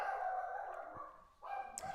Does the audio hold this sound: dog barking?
yes